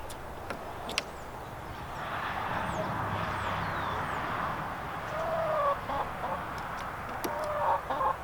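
Chickens cluck around a feeder in a garden, with scattered soft calls over a steady outdoor background hum, fairly quiet and at moderate distance.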